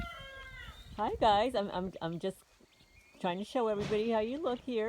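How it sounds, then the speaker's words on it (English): A cat, one that was dumped during winter, meows repeatedly in loud drawn-out calls, several in a row with a pause between bursts, while a person talks over part of it. "This is the cat that was dumped here during the winter time."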